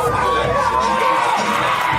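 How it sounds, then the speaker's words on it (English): Wrestling event crowd cheering and whooping, a loud, sustained roar of many voices filling the arena, with shouts rising above the din. "The crowd is just electric. They're downright jubilant."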